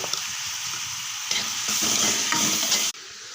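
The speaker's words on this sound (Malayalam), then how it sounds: "ഇത് പെട്ടെന്ന് വാടാൻ വേണ്ടി നമുക്ക് നിരക്ക് കുറച്ച് ഉപ്പ് ഇട്ട് കൊടുത്തിട്ടൊന്ന് ഇളക്കി കൊടുക്കാം." Prawns sizzle and fry in a pan with salt while being stirred, a steady close hiss with soft scraping stirs over it that cuts off near the end.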